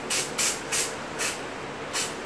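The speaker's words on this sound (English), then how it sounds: "shake ko lang yung contact cleaner, then spray ko dun sa socket" Contact cleaner is sprayed from an aerosol can into a computer socket in five short, close hissing bursts separated by brief pauses.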